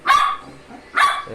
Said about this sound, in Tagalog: Tahol.